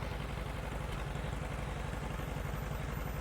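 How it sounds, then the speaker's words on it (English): A 1956 John Deere 520 two-cylinder tractor idles at a parade, its engine chugging in a steady low rhythmic putter that holds close and constant throughout. "Michael's got a John Deere 1956 520 tractor, just a 2-cylinder from over at the Edgerton area"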